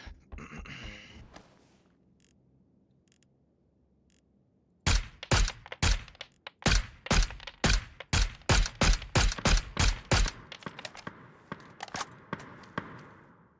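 Gunfire from Mk14 rifles in a PUBG match: a quick burst of sharp, loud shots after a quiet stretch, then a steady run of about a dozen evenly spaced booming reports, each trailing into a noisy tail.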